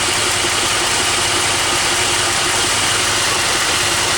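A Plymouth 318 V8 idles steadily after a carburetor repair, a continuous even engine drone with no voices over it.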